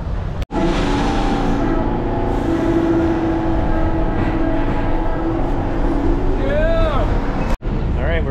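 A New York subway train running, a steady rumbling ride with wheel and track noise, bracketed by sharp clunks and a rising squeal of braking near the end.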